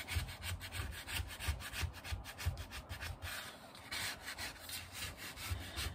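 Wax being scraped off a painted surface, a steady run of close, rhythmic rubbing strokes that rasp back and forth continuously with no voices.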